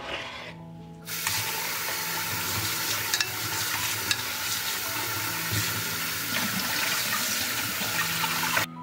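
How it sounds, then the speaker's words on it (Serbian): After a brief quiet moment, cold tap water gushes steadily over potatoes, a continuous rushing stream with a few small knocks and clinks. "nosim ga sada da ga isperem pod mlazom hladne vode"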